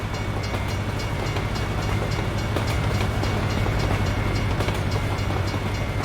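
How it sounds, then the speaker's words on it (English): A big freight train rumbles past in American Truck Simulator, a steady loud low roar with rail clatter running the whole time, no voices over it. "There's a big old train going by."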